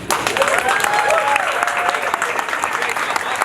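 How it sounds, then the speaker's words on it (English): Audience applause fills a boxing press conference for Andy Ruiz ahead of his Anthony Joshua rematch, a steady, dense wash of clapping throughout with a faint voice or two underneath. "let's give a round of applause for the man, the myth, the legend"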